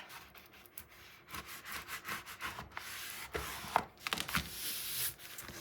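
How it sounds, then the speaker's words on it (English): Paper for a Stamperia mini album is rubbed hard with a burnishing tool, making quiet, repeated scraping strokes in an uneven rhythm, close by. "let's get this a good burnish"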